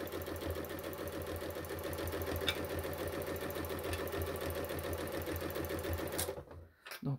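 A sewing machine runs a seam on a fabric running backpack, giving a close, steady rapid stitching chatter that cuts off abruptly near the end.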